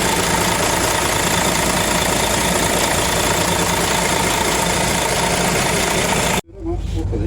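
A vehicle engine bogs down, a loud, rough, continuous knocking drone heard up close that cuts off abruptly near the end, leaving a brief quieter tail.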